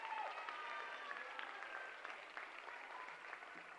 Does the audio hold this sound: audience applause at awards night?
yes